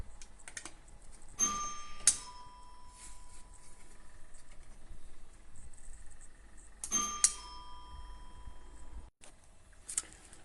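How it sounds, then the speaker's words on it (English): An old wired doorbell chime on a 220-volt system rings twice when its switch is pressed, each press giving a bright two-note ding-dong that rings out over faint background noise. "I reconnect my old doorbell switch just to test my doorbell first"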